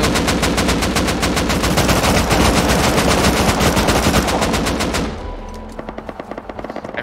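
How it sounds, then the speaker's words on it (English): Rapid automatic gunfire in the survival game Rust, a loud dense burst of repeated shots lasting several seconds before dropping to a quieter run of scattered single shots. "I think they're shooting at us."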